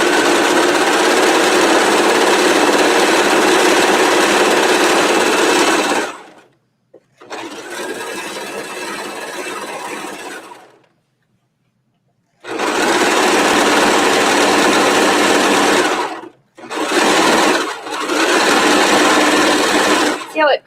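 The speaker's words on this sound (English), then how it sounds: "I'm just doing a serged edge at the top" A serger overlocks and trims a fabric edge while a draped skirt is being sewn, giving loud, fast, buzzing stitching runs close by that stop and restart several times with short pauses between.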